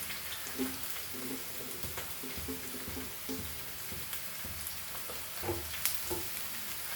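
Steady crackling sizzle of chilies frying in hot oil for poha, with occasional pops and light stirring scrapes, continuous and close.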